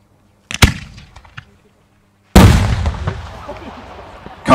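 An ABA 75mm Blitzbombe 400BL firework shell goes off outdoors. A sharp launch thump comes first, then after a pause a loud, close explosion whose rumble and crackle trail on for several seconds.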